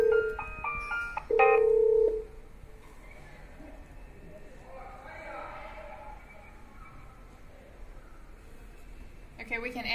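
A Dahua video intercom's indoor monitor gives a short electronic ring: two bursts of steady synthetic tones close together, fairly loud at near range, followed by quiet room noise and soft talk.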